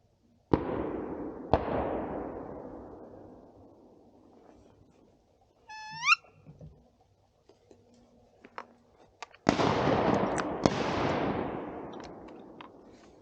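Shotguns fired during a duck hunt in southeastern North Carolina: two sharp blasts early, then two more close together near the end, each decaying over open quiet with a brief squeaky call in between.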